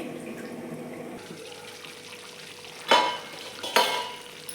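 Spicy chicken curry simmering in a pan, a soft steady sizzle with a couple of sharp scraping stir strokes near the end, close and moderately loud with no talk.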